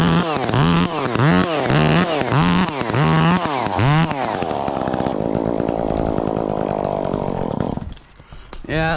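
Echo 2511 T chainsaw engine running loud and close, revving in a rising and falling rhythm, then holding a steady high drone before cutting out abruptly.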